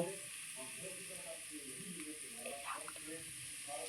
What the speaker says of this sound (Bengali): গুঁড়ো মশলাটা দিয়ে আমি একটু নাড়চাড় করে নিচ্ছি